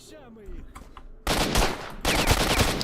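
An AK rifle fires in STALKER: Shadow of Chernobyl. Someone speaks briefly, then loud, sustained automatic fire takes over with a short break before a second burst.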